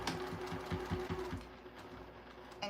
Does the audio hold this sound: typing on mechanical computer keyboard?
no